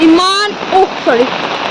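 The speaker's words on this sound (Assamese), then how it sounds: "ইমান বেছি মানে বৰষুণ, দেখুৱাব নোৱাৰিম" Heavy rain pours down on a roadside, making a constant hiss while someone walks through it in sandals; voices and brief tonal calls sound over the downpour.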